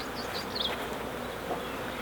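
Honey bees buzz steadily around an open hive, a close, continuous droning hum with a few individual bees passing near, with no voices over the sound.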